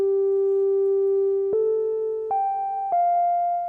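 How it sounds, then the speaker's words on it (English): Sustained synth tones from a Polyend Tracker stepping upward through four held pitches, each note ringing with heavy reverb tails, clean and close with no voices. "You can hear that's very nice reverb"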